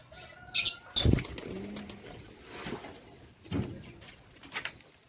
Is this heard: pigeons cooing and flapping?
yes